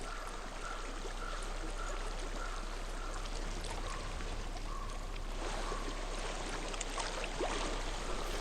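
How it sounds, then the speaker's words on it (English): A steady, continuous wash of running stream water in Hellblade: Senua's Sacrifice, filling the scene evenly throughout with faint tonal hums beneath and no talking. "Oh, now we can hear running water."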